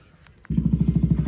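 A motorcycle fitted with a Nishan Sahib flag, ridden toward a Sikh Nagar Kirtan procession, starts up loud and close with a steady pulsing engine thrum after a brief quiet moment.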